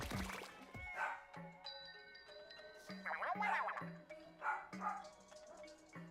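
A dog named Grover barks in the background, several short barks spread irregularly over a few seconds and mixed with video game effects and chimes.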